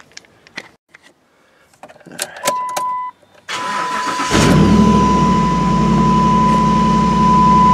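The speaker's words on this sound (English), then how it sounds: "let's get the truck going and see what we got going on" A 2007 Dodge Ram four-wheel-drive pickup raised on jack stands cranks with a few clicks and whirs, then catches and settles into a loud, steady idle close by, with no talking.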